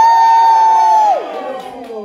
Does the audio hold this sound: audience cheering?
yes